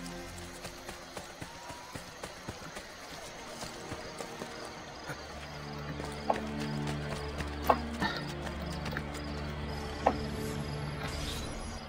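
Rhythmic clip-clop of horse hooves trotting steadily in Assassin's Creed Brotherhood, with scattered sharper clicks and thuds layered on top; no one speaks.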